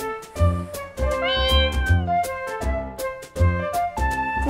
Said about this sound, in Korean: 고양이가 있어요